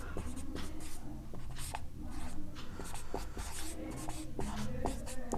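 Chalk or marker writes an equation on a board in short rubbing strokes and taps, an irregular scratchy rhythm close by, with no talking over it.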